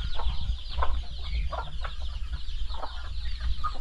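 Chickens on a Filipino backyard farm, some let out of their pens, clucking in short scattered calls over a steady low rumble of farmyard background noise.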